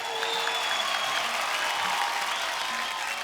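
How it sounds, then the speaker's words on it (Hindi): Studio audience applauding the Hungama 2 cast on a Kapil Sharma talk show, dense continuous clapping from a large crowd throughout. "जोरदार तालियां"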